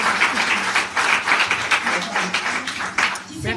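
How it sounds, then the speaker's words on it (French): An audience at a conference in Toulouse breaks into a short burst of dense applause, with a voice speaking over the clapping. "Elle applaudit bien fort."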